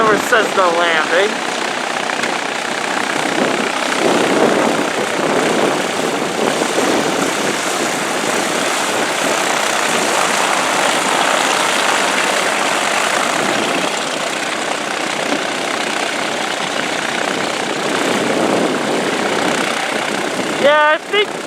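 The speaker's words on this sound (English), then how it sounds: "Cessna landing." A Cessna light propeller plane comes in to land at an airfield, its engine droning steadily and loudly throughout with a broad, rushing hum that swells and eases slightly, with voices talking nearby.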